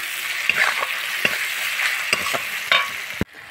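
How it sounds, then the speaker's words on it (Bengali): Onions sauté in a pan with turmeric and salt, a constant close sizzle punctuated by regular scraping stirs of a spoon, ending with a sharp knock before a quieter tail. "1 চামচ লবণ দিয়ে পেঁয়াজটা আরও কিছুক্ষণ আমি কষিয়ে নেব"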